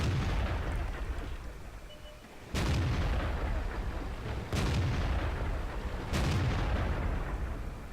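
Tank cannon fire in a tank battle video game with an SU-100Y and E25, three heavy booming shots about two seconds apart over a steady low rumble of battlefield ambience.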